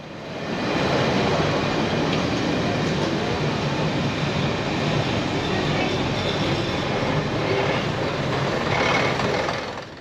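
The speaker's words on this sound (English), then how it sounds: "this Class 117 DMU evokes plenty of memories of riding on a train" A Class 117 diesel multiple unit train on the Swanage Railway rumbles steadily along, a continuous broadband roar with faint rhythmic rattling, loud and close, no voices.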